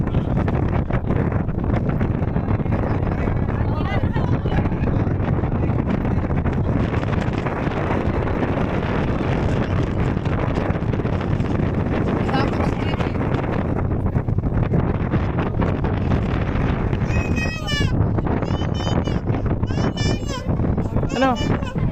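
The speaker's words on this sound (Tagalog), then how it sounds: "malakas ang hangin eh" Heavy wind buffeting the microphone, a constant low roar filling the whole clip while people talk underneath, at the Monte Maria glass walk.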